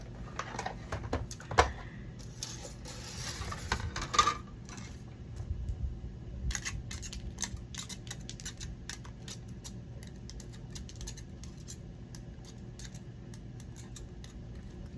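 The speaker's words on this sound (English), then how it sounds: "Okay, I promise this is the last time we're gonna cut with the scissors machine." Paper cut with a scissors-type cutting machine during a craft project gives irregular snips and crisp clicks, with some rustling and pauses between bursts, close by and without talk.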